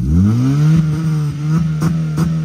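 A stock Volkswagen Virtus GT or a Stage 2 tuned Honda City revs loudly and close at a drag race, holding a steady roar that rises early on, with brief sharp bursts punctuating the drone.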